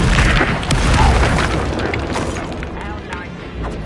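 A Confringo explosive spell blast from the Hogwarts Legacy video game booms loudly amid continuous game noise and a voice, the rumble fading slowly over a few seconds.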